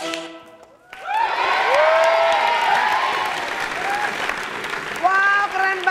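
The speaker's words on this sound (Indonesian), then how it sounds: "Tepuk tangan lagi dong, geng." Crowd applause and cheering after a catwalk performance on a TV show, rising sharply after a brief opening and continuing loudly, with excited voices and talk over it.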